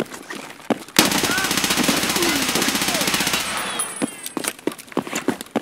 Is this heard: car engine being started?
no